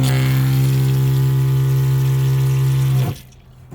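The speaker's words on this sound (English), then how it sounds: "Let me go ahead and turn on the sink for you so you could see it." A tap in a 2005 Honda Odyssey camper van runs into a stainless steel sink bowl with a loud, steady rush and a pump-like hum, which then stops abruptly near the end.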